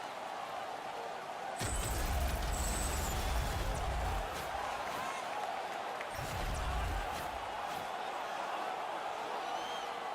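Hockey arena crowd noise after a fight, a steady roar of fans with a couple of louder low thumps and swells, a bit distant and washy.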